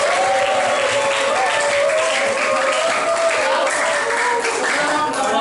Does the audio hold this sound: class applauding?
yes